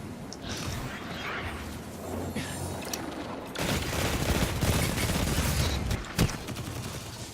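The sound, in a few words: shotgun fire in video game Destiny 2 PvP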